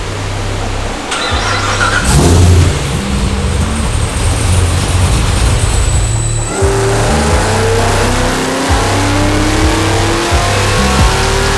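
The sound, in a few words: Cadillac CTS-V3 engine revving on a dyno pull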